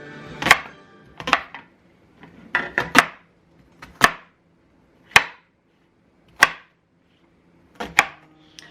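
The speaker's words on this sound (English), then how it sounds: "that was a horrible job of cutting those onions" A knife chopping a large onion on a cutting board: sharp, distinct knocks, about a dozen, in irregular clusters and single strikes with short silences between, close and clear with no talking.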